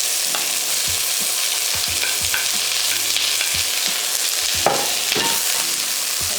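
Steady sizzling of onion sautéing in a frying pan, with occasional stirring scrapes and clinks, close and continuous with no talking.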